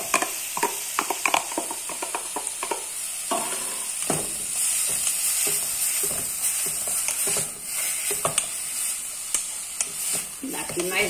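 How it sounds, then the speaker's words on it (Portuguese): Carrot and other vegetables sautéing in a pan for baked rice, a steady loud sizzle with repeated spoon scrapes and clinks against the pan, close up and without speech. "Vou acrescentar para refogar logo tudo."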